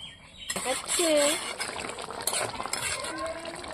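A spatula stirs a fish and potato curry in a pot, scraping with a few light clinks against the metal while a voice talks over it nearby.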